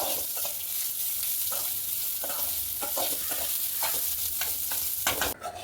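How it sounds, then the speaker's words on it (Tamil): Chopped onions with a little salt sizzling in a pan while a spoon stirs them now and then, a steady close crackle with soft scraping knocks. "வெங்காயம் நல்லா பொன்னிறமாக வர வரைக்கும் நம்ம வேக வைக்கணும்"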